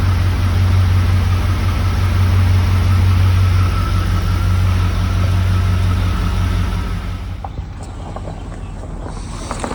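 A 1989 Pontiac Formula Firebird engine idles with a steady, low rumble up close, then the sound drops off, leaving quieter background noise.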